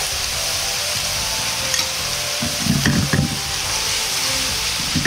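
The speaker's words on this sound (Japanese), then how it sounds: "ナッツオイルが液体状になるまで加熱したら、みじん切りにした材料を入れて炒めます。" Chopped ingredients stir-fry in hot nut oil for a shrimp curry, a steady loud sizzle throughout with a few scraping stirs of the spatula near the middle.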